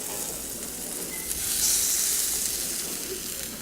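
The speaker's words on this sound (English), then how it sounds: "Basically, I just want to sear this beef." Beef sears in a hot, smoking pan for Thai-style beef salad, a steady loud sizzle with broad hiss that swells briefly midway, with no talk over it.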